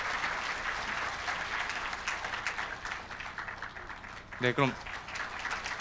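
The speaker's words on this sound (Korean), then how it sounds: "박수 부탁드립니다." An audience at a 2017 members' night awards ceremony gives steady, sustained applause that fills the room, with a brief spoken voice breaking in near the end.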